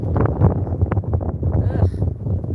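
Gusty wind buffets the microphone outdoors in a backyard by a clothesline, a steady low rumble with rising and falling surges throughout.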